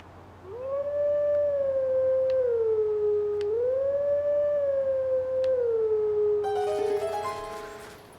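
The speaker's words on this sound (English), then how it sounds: "otherwise Wolf Link will stop howling" Wolf Link howls in The Legend of Zelda: Twilight Princess HD, one long sustained wavering howl rising and falling in pitch, loud and close, with brief chime-like notes and a burst of musical tones near the end.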